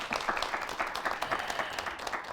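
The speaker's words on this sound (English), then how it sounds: "Give yourselves another round of applause." Studio audience applause at a televised health talk show, a brief burst of fairly faint, steady clapping from a small crowd, heard on its own without talk.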